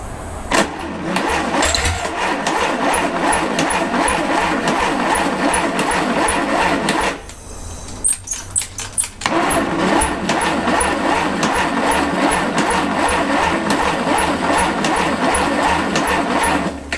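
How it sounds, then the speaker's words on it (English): A rebuilt 1948 Dodge sedan engine cranks steadily with a rhythmic churning, pauses briefly for about two seconds, then cranks again without firing, loud and close throughout. "we're ready to try starting this beast"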